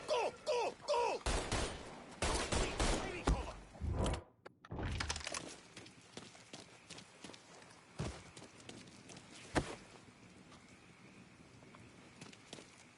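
Gunfire in the Mafia III video game: a dense burst of repeated shots in the opening seconds, then a brief gap and scattered, sharper single impacts and bangs over a busy background.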